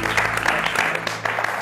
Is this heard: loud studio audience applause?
yes